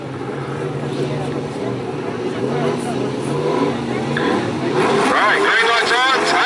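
Speedway sidecar bikes rev their engines on the start line before the tapes go up at a memorial sidecar meeting, a dense, rising engine roar with a commentator talking over it throughout.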